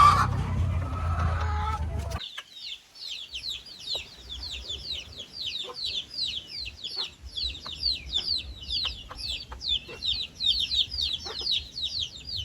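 Chickens in a coop cluck and chirp in a rapid, continuous chatter after a brief louder noise at the start, with scattered light knocks underneath.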